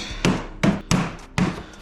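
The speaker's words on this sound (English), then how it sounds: "Take a hammer, we're gonna tap it so it's flush" Four sharp hammer taps on a hollow metal garage door section, evenly spaced about a third of a second apart, each with a brief ringing decay, close and clear.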